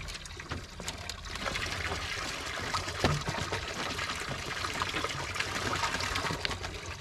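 Water flowing steadily outdoors during snowy weather, a continuous broadband rush and trickle that stays fairly loud and even throughout, with no voices.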